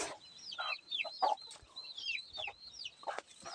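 Laying hens in a backyard flock clucking and cackling in a rapid, irregular series of calls, fairly close and moderately loud, with no talking.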